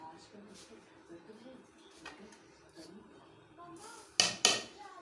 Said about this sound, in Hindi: और इसी पैन को दोबारा इस चूल्हे पे रख देते हैं।